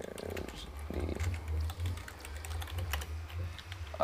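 Rapid clicking of a computer keyboard while someone plays Minecraft-style modded survival, the clatter close and steady in bursts, with someone talking at low volume over it.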